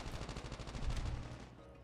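Rapid bursts of gunfire in a Call of Duty Mobile battle royale match, a dense run of shots that swells in the middle and then fades, with no talk over it.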